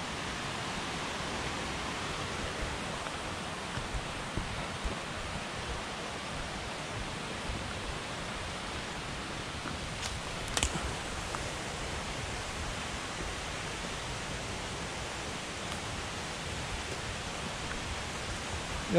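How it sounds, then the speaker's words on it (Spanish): A steady broadband rush of a river flowing below in a dark forest, fairly distant and unbroken, with no voices or other distinct sounds over it. "El río se oye por ahí abajo."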